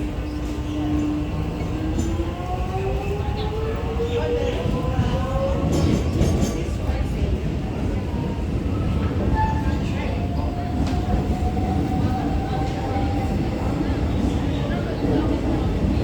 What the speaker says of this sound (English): this train here is not taking passengers.